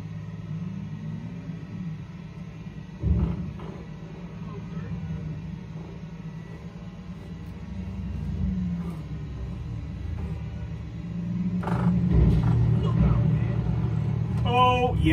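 Within Grand Theft Auto V, a Porsche sports car's engine rumbles low and steady, rising toward a louder rev near the end, with a voice talking at times.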